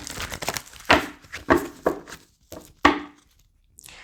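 Tarot cards shuffled by hand, a series of sharp papery riffles and slaps in irregular bursts, close and crisp, with brief pauses between them and no talking.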